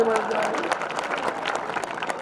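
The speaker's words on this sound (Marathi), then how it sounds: "टाळ्या तर मारा" A crowd claps in a steady, dense wash of applause at an election campaign rally in Nanded. It is fairly loud and continuous, with voices mixed in.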